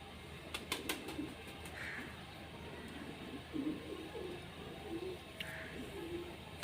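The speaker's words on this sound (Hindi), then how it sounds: "ये कबूतर, ये बच्चा" Pigeons coo in soft, repeated low murmuring calls amid faint background ambience, with a few sharp clicks and brief higher sounds; a voice talks quietly at times.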